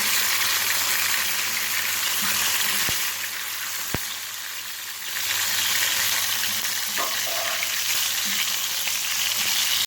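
Tomatoes frying in hot oil for a tomato-and-egg omelette, giving a steady, loud sizzle that fills the whole clip, with a few sharp clicks and a brief dip in the middle.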